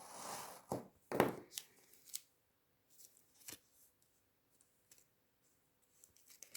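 Blade slicing through paper in a few short, crisp strokes, with one louder cut followed by faint scratches and clicks, close and otherwise quiet.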